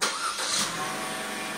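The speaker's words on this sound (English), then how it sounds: "Car fires up." A 2016 Chevy Trax engine cranks and catches after a remote starter fires it, a brief loud start that settles into a steady idle hum, close by and with no voices.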